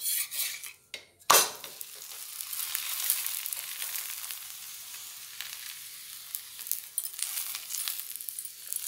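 Mooli paratha frying in oil on a hot pan, a steady crackling sizzle after a sharp clatter at about one second, with faint scraping and spitting throughout.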